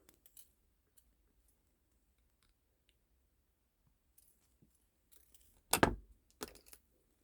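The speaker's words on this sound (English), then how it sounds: "Cut those wires, weaving wire." Snips cut weaving wire for a wire-wrapped stone pendant, giving one sharp, close snip followed by a couple of lighter clicks after a quiet stretch.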